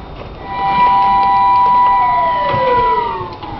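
A siren wails with rising and falling tones over steady background noise, fairly distant and sustained throughout, in Rikuzentakata, Japan, after an earthquake amid continuing aftershocks.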